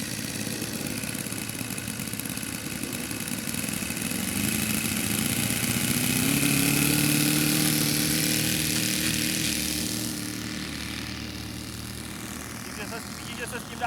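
A Nieuport N-11 model aircraft engine turning a wooden propeller drones steadily nearby, its pitch rising midway and then easing off, while people talk over it.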